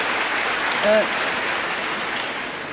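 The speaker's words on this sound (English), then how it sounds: "That's going to be greeted with applause every time they get a good mark" Audience applause at the 1981 Eurovision Song Contest in Dublin during the points announcements, a soft, steady wash of clapping with a brief voice rising over it near the one-second mark.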